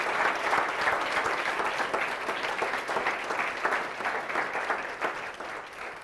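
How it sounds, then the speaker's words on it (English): An audience at an award ceremony applauds the finalists, a sustained, dense wash of clapping from a crowd that holds steady and fades slightly at the end. "Please give a round of applause for our Impactful Emerging Leader finalists."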